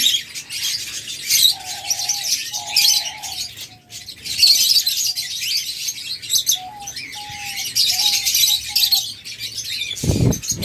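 Caged pet birds at a bird shop keep up a steady flock chatter of high chirps, with clearer whistled calls repeating in short runs, ending in a sudden loud thump; no one speaks.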